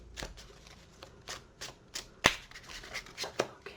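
Tarot cards being shuffled by hand in quick, uneven riffles and taps, close and fairly quiet, with a sharper snap near the middle and no talking.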